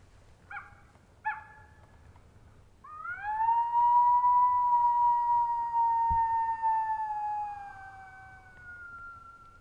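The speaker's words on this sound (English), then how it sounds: "When doing howls, you want to be ready because things can happen fast." An electronic predator call set in a yucca plant gives two short yips, then a long, rising and slowly falling coyote howl, played clearly over faint background rumble with no talking.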